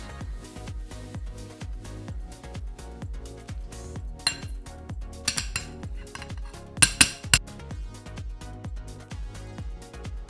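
Cooked potatoes being mashed in a steady, repeated rhythm, with soft thuds and occasional metallic clinks of the utensil against the pot, over light background music.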